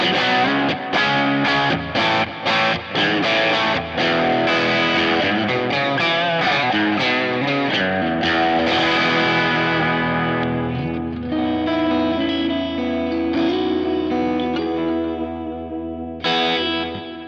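A distorted electric guitar through a Greenback speaker plays loud chords and riffs, thick and chimey with chorus and reverb, ringing out into a sustained fading chord.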